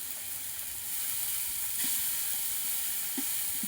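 Ginger garlic paste sizzles steadily in a pan while cooking chicken mandi, a soft continuous hiss with a few faint stirring clinks and no talk.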